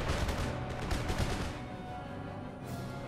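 Artillery fires in an Empire Total War battle during a Gran Colombia campaign against Spain, a dense crackle of booming shots and volleys, loud and continuous before thinning slightly toward the end, with no speech.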